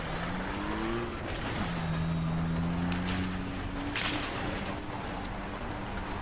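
Cars driving through the open world of the game Far Cry 3: engines whine and shift pitch as they pass at close range, with a continuous roar and a few sharp bursts.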